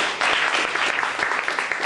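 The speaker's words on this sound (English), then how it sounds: "So another big round of applause for Dr. Cedars and Dr. Westphal." Audience at a science cafe talk applauding the speakers, a brief burst of close, dense clapping that carries on evenly for just under two seconds.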